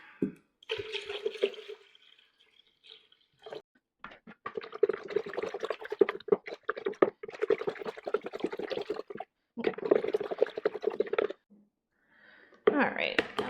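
Water is poured into mead must for a fireweed mead, splashing in several separate bursts a few seconds long, close and moderately loud, with short quiet gaps between.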